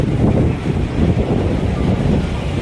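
Steady sea breeze gusts across the microphone at Manila Baywalk Dolomite Beach, a continuous low rumbling buffet with no talk over it.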